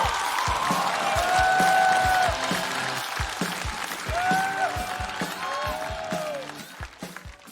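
A studio audience at a stand-up comedy show applauds in a steady rush of clapping, heard beneath loud stage music with a thumping beat and sliding tones.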